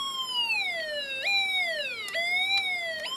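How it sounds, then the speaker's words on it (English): A Snap Circuits alarm IC siren wailing through a small speaker, an electronic police-style tone that sweeps down and jumps back up in repeating cycles, loud and close with nothing else heard. "I'm decreasing power to the alarm IC"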